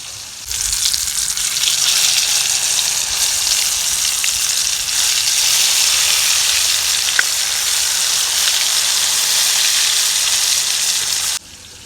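Marinated bitter gourd slices hit hot oil on a tawa and set off a loud, steady frying sizzle that holds evenly, broken once by a sharp pop, before cutting off abruptly.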